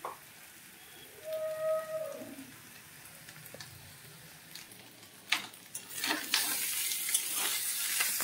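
Eggs cook in a pan with vegetables, a soft sizzle at first, then louder crackling and stirring that builds in the second half.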